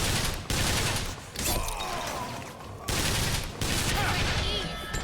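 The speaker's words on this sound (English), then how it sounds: "Why did that burst fire?" Bursts of gunfire in the video game BioShock Infinite: Burial at Sea, loud rapid volleys repeating in several clusters, with other game sounds between them.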